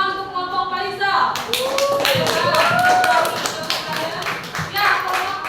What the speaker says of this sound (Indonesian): Tepuk tangan untuk kelompok Faisal